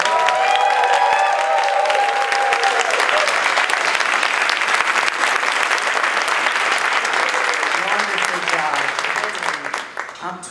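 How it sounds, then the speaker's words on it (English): Sustained, loud applause from a large audience at a student awards gala, dense clapping filling the room throughout and easing slightly at the end as a voice starts to come through. "give all of these young people a round of applause"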